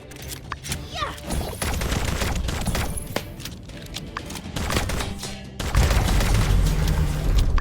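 Rapid bursts of gunfire from the video game My Time At Sandrock rattle steadily for several seconds, loud and dense, with a heavier thud near the end and a little voice underneath.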